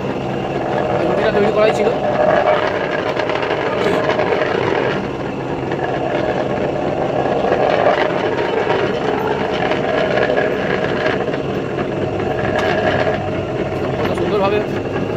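A dough rolling machine runs to sheet dough for nimki, producing a steady, loud mechanical drone with a rattling hum throughout while a person talks over it.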